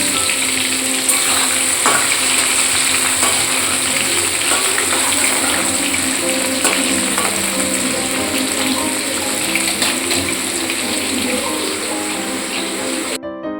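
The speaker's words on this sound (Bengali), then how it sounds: "এখন শাঁকালুটা ভাজতে বসাই" Yam bean (shankalu) slices frying in a pan for a harvest festival home feast, a steady dense sizzle running the whole time with clinks and scrapes of stirring and a faint mechanical hum, no talk.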